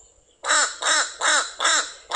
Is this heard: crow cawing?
yes